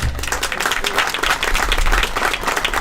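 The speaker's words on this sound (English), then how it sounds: "Let's give them a round of applause." Brisk crowd applause for volunteers from Sand Hills Community College who donate their time, many hands clapping close and continuous throughout.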